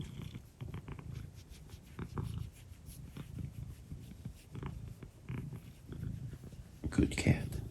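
A cat purrs softly and steadily at close range, a low rumbling under quiet talk, with a louder rustle near the end.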